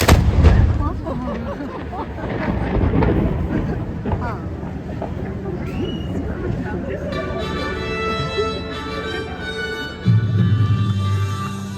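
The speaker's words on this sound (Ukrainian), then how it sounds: "слідую справжній постріл з однієї з гармат" A single deep ceremonial cannon blast in Malta booms at the start and rolls away, followed by crowd murmur, voices and a tonal horn or music near the end.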